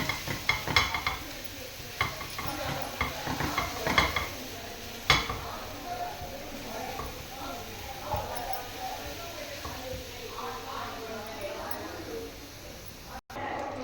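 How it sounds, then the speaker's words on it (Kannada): Kasuri methi fries lightly in a pan with a soft sizzle, under frequent scraping and clinking from a utensil stirring it. Someone talks over the cooking. "ಲೈಟಾಗಿ ಫ್ರೈ ಮಾಡ್ಕೋಬೇಕು. ಸ್ವಲ್ಪ ಕಸೂರಿ ಮೇಥಿ ಹಾಕಿದ್ದೀನಿ."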